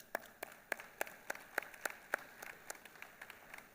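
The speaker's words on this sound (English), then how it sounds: "they all deserve a big round of applause." Audience applause at an ICAO aviation security week opening ceremony: a faint, sparse patter of around a dozen distinct hand claps, heard alone and thinning out toward the end.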